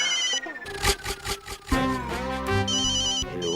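A mobile phone ringtone plays nearby, a bright melodic tune with repeating tones and a chiming electronic pattern, heard alone without speech.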